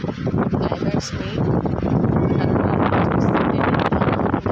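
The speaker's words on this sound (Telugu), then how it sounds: "ఎంత చాలా గాలి వస్తుంది" Strong wind gusts buffet the microphone outdoors just before rain, a loud continuous roar with rustling bursts, close and unbroken throughout.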